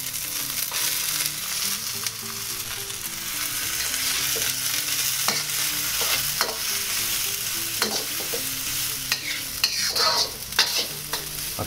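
Rice and peas being stir-fried for American fried rice, a steady loud sizzle with scraping spatula strokes against the pan running throughout, no voices.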